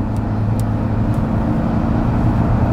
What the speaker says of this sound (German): Dritten Gang beschleunigen.